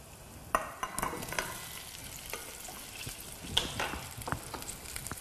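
Cherry tomatoes sizzle and pop in hot bacon fat in a pan, with scraping stirs and sharp clicks over a steady frying hiss, close and fairly loud.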